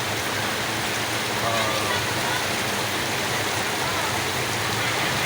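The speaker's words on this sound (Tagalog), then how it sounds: "Tindi talaga ng ulan" Heavy rain pours down on a flooded street, a loud, steady, dense hiss of water that fills the whole stretch without a break.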